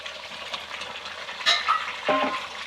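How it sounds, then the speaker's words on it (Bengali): Chicken gravy being stirred in a pan with fried potatoes and Malabar spinach stalks, a steady sizzle broken by a couple of sharp scrapes and clinks near the end. "দিয়ে একটু ভালো করে নাড়াচাড়া করে নেব"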